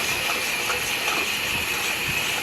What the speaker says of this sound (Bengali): ভাজা মাছটা দেওয়ার পরে কিছুক্ষণ বলক আসবে।